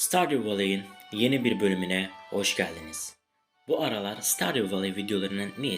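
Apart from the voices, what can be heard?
No everyday noise stands out behind the speech.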